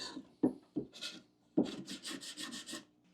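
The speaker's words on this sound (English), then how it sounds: "I'm hitting the edges with some 80 grit sandpaper to take off" Hand sanding of wooden step board edges with 80 grit sandpaper makes a series of rough rasping strokes, a few separate scrapes then a quick rhythmic run of about six rubs, close and clear without talk.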